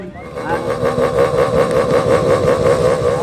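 Motocross motorcycles rev at the start of a race in Bataraza, a dense, sustained buzzing engine roar with rhythmic pulsing, loud and close for the whole stretch.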